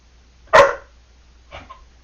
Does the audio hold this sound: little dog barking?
yes